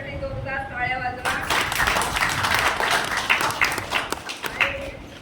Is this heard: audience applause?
yes